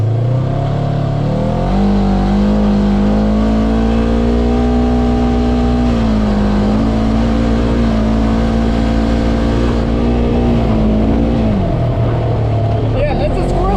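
Polaris RZR 900 Trail Edition 50-inch side-by-side driving a trail, its engine droning loud and close as the pitch rises, holds steady and eases off, with voices talking over it.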